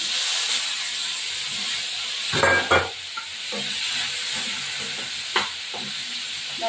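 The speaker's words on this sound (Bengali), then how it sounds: "বেগুন আর আলুগুলো ভাজা বসাবো।" Eggplant and potatoes fry in a pan of hot oil, giving a steady, loud sizzling hiss throughout, with a few soft clunks of stirring near the start and middle.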